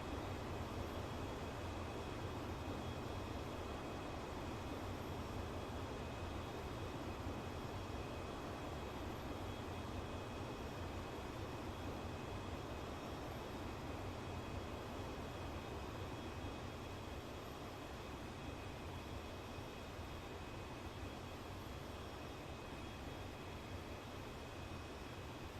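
Airbus A330 airliner of Azul Airlines landing, heard from beside the runway: a steady, broad engine roar that holds at an even level throughout, fairly distant and without talk.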